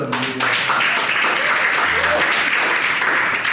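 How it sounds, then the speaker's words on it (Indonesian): A studio audience at a talk show applauding a guest, a continuous wash of clapping from a group, fairly close, with voices talking over it at times. "tepuk tangan dulu buat bunda dong"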